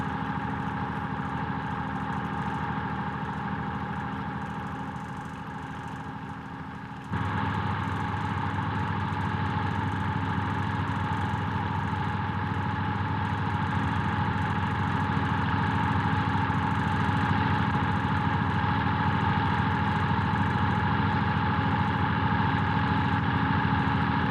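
A farm tractor's diesel engine idles steadily, then revs up to a louder, deeper drone partway through and holds there, running alone without talk.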